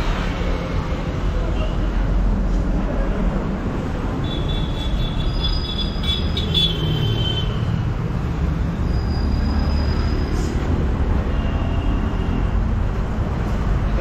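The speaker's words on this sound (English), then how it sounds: "It's a train." A train rumbles past continuously, with a low rolling roar, steady clatter and occasional faint metallic squeals from the wheels.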